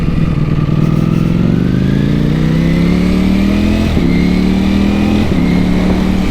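Ducati Panigale V4S superbike accelerating hard and loud, engine note climbing steadily through the gears with quick-shifter changes cutting in, close and dominant with no talk.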